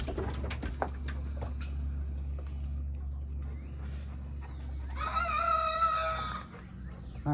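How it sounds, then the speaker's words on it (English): A rooster on a farm crows loudly at close range, one long strained crow rising over a steady low rumble and scattered clucks from other fowl around the yard. "That rooster's feeling pretty swollen there"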